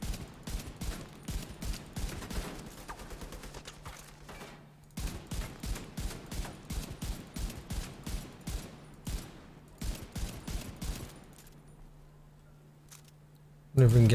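M1A rifle fire in the shooter game The Division 2 comes as a rapid series of sharp, punchy shots in several bursts with short pauses, set against game noise and a louder hit at the end.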